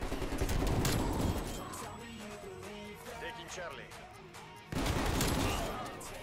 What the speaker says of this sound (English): This shotgun is doing actual work.